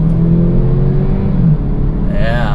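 A 2018 Kia Stinger 2.0T turbo four-cylinder pulls hard from inside the cabin, a deep steady engine rumble and rising whir that drops briefly as it shifts, then climbs again near the end.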